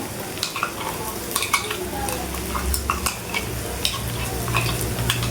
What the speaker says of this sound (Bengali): একটু সুন্দর করে শুকনো মরিচের বাটাটা আমি ভেজে নেই তেলের মধ্যে